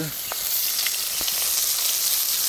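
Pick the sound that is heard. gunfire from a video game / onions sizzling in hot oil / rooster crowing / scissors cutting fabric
onions sizzling in hot oil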